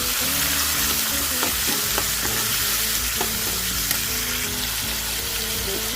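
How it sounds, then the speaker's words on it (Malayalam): Tomatoes frying in hot oil after mustard seeds have crackled, a steady dense sizzle with occasional pops and stirring clinks, close and continuous with no talking. "കടുക് പൊട്ടിയപ്പോൾ തക്കാളിയൊക്കെ ഇട്ട് കൊടുക്കാം"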